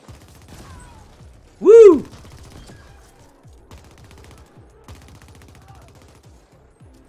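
Gunfire in the video game The Ascent, rapid light shots ticking continuously at moderate level, with a short cheering exclamation early on.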